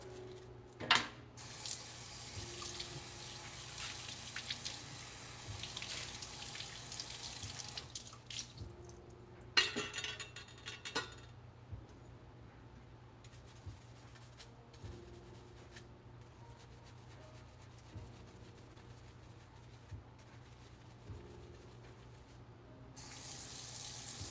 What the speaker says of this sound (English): We're gonna water my perilla plants with some like coffee water to help them grow.